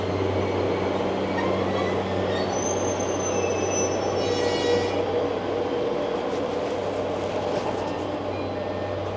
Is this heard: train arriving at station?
yes